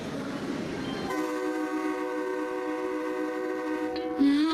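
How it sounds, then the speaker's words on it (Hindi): A train at a station gives a long, loud, sustained horn blast over a rumbling background as it departs. "ये ट्रेन तो जा रही है।"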